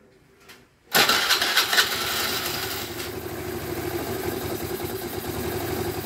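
Scarabeo 100cc scooter engine catches after a short quiet lead-in, firing loudly at once and then settling into a steady, busy idle that continues to the end.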